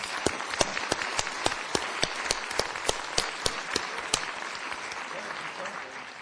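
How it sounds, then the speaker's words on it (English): Steady clapping from a modest audience, with a few sharp individual claps standing out above the rest; a voice murmurs faintly underneath. "Let's give our 25-year recipients a round of applause."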